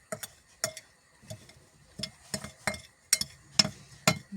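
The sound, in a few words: stirring a mixture by hand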